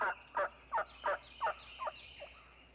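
A wild turkey hen gives a close series of about seven evenly spaced yelps, loud at first and then fading toward the end, with no talk over them.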